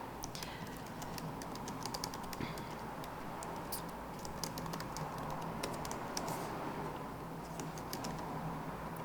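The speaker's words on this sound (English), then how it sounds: "Oops, if I can type." Rapid, uneven clicking of computer keyboard keys fills the whole stretch, close and fairly quiet, with no voices over it.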